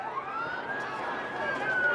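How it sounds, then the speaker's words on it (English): A distant police siren wails in a long, slowly rising tone over crowd noise and faint chatter. "All right, we're starting to hear some sirens."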